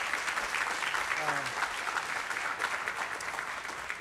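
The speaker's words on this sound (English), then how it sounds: "So give yourselves a round of applause" An audience at a college torch ceremony applauds, sustained dense clapping from a sizeable crowd that holds steady throughout, with a brief faint voice heard under it early on.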